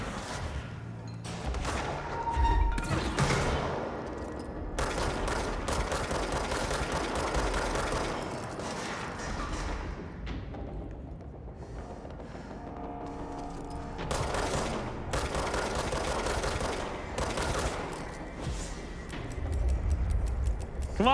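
Gunfire in the Indiana Jones video game crackles in rapid bursts and fusillades, dense and loud, with short lulls between volleys over a backdrop of game effects.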